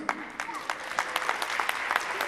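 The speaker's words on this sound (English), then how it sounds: "Give him a round of applause." An audience applauds a puppeteer at a Snow Queen puppetry demonstration, a steady close burst of clapping lasting a couple of seconds, with some voices mixed in.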